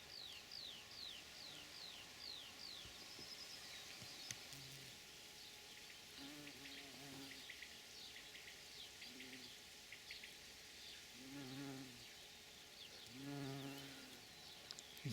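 Bees buzz around Viper's Bugloss flowers in a June garden, in soft, droning bursts that rise and fade, with faint bird chirps in the background of a quiet outdoor scene.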